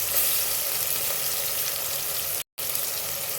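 Spice masala frying hard in a pan for a tomato-based hotel-style poori saagu, a steady loud broadband sizzle that drops out for a split second near the end before resuming.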